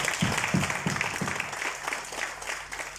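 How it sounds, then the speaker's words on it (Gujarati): Audience applause after a short skit at a school batch reunion celebration, with several bursts of clapping early that thin out into scattered, fading claps. "ફરી એકવાર તાળી"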